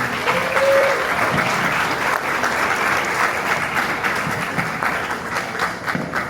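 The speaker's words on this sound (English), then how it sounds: "Please don't stop clapping until" Sustained audience applause fills the room steadily for the whole stretch, dense and even with no gaps, while a faint brief tone sits in the background near the start.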